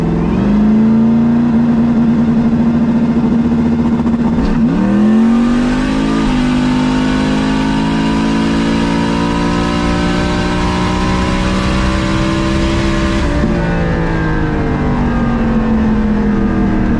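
Fast vehicle accelerating hard at close range with a loud, sustained high-revving engine roar, a brief pitch dip as the gear shifts, then the sound drops off as the driver lifts off the throttle.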